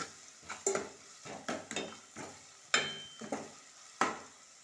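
Onions and ginger garlic paste fry in a pan for a home curry, with soft sizzling broken by repeated scrapes and stirring knocks of a utensil against the pan, fairly quiet and close.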